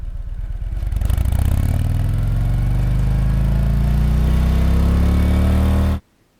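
Stock exhaust on a 2018 Harley-Davidson Heritage motorcycle, starting up and settling into a steady, close, low throbbing idle with a rising drone, then cutting off abruptly.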